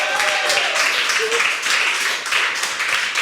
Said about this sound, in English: one more time for Qamarul Haziq, everybody. Round of applause for him